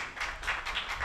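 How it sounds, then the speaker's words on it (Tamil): A church congregation claps together during a feast-day Mass for a chariot festival at a chapel, with a run of steady, moderately loud hand claps and no talking. "எல்லாம் ஜோராக கைத்தட்டுங்க."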